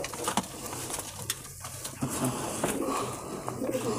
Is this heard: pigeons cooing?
yes